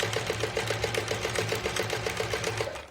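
A sewing machine stitches fabric onto a paper foundation in patchwork piecing, running steadily with a fast, even needle rhythm, close and clear, with no talking.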